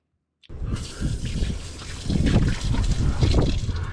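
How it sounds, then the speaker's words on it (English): Cold water from a shower in a camper van gushes and splashes steadily after a brief silent start, close and loud, with the spray growing heavier partway through. "So I'm gonna have a quick cold shower."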